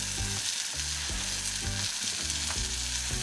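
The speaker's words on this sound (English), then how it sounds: "You give that a really good stir around, and that's starting to activate those spices in that curry" Korma curry paste fries in a cast-iron camp oven while being stirred, producing a loud steady sizzle with rhythmic scraping strokes repeating about every second.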